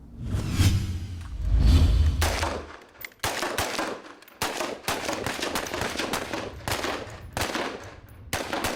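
Gunfire pops from weapons training on a shooting range, a run of sharp shots and bursts after a couple of louder thumps at the start, with no one speaking.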